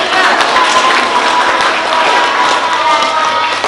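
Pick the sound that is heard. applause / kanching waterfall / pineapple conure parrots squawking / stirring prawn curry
applause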